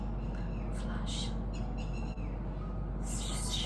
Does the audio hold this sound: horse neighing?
no